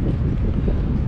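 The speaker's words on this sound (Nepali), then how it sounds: "you can hear the noise of the wind" Strong gusting wind buffets a microphone outdoors on a muddy lawn with melting snow, forecast at 60 to 70 miles per hour, a loud, continuous low roar with no voices.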